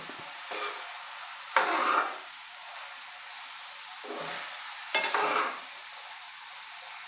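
Cauliflower is dry roasted with masala and curry leaves in a pan, heard as repeated scraping stirs with soft sizzling bursts between quieter pauses.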